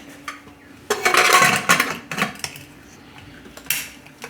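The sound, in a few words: closing the lid of a pressure cooker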